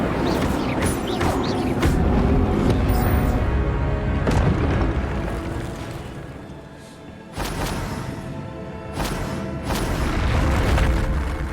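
A fire spell cast in the video game Hogwarts Legacy: a loud burst of booming, crackling magical fire effects over a dense game soundtrack, with repeated heavy impacts and a swelling roar that dips briefly then surges back.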